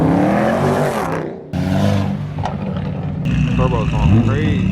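A straight-piped BMW M4 G82 roars at a car meet, loud and close, its revving exhaust and turbo whooshing rising and falling while people talk over it.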